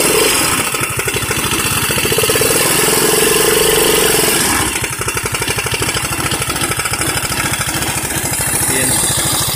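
A Honda Beat 100cc scooter engine running without an air filter revs up loudly and close by, a dense rapid putter that climbs in pitch, eases off near the midpoint, then rises again.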